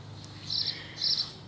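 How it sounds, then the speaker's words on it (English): Two short bursts of high bird chirping, a moment apart, over a quiet background hum. "Hear those birds?"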